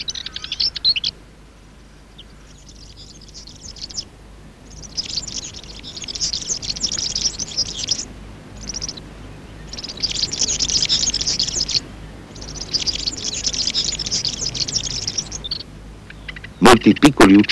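Small birds such as cirl buntings call from a nest hidden in a lobed-leaf oak, giving repeated bursts of high chirping across the clip with short pauses between bursts, fairly close and clear.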